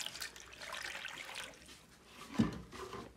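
Water poured into an animals' container, a soft faint trickle and splash with a brief louder splash near the end, no talk over it.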